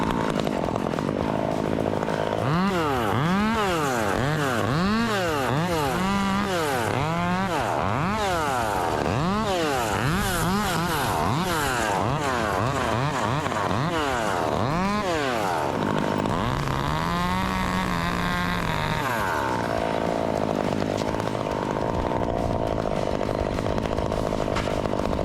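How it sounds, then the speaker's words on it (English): Chainsaw cutting through a tree trunk, loud and close, its engine revving in rapid repeated surges that rise and fall as the chain bites, then settling into a long strained bog in the cut before easing off. "As the blade makes contact with the tree trunk, the chain starts slicing through, sending sawdust flying."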